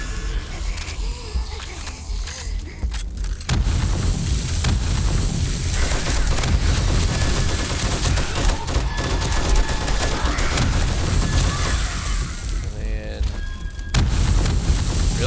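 HE ammunition shots and explosions in 7 Days to Die during a zombie boss-room fight, a loud sustained roar of booming blasts and rumbling fire after a quieter opening, with a lull near the end.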